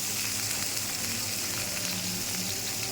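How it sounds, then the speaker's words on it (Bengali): Cauliflower and potato frying in a tablespoon of oil give off a steady, close, even sizzle with faint stirring crackle, no voices. "1 টেবিল চামচ তেল দিয়ে ফুলকপি আলু ভাজা দিয়ে দিয়েছি"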